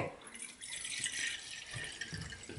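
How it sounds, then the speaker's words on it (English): Water pours into a large toy clam shell, a soft continuous splashing and trickling stream, faint and close, with light rattling and low background noise. "my dad's just about to fill it with water."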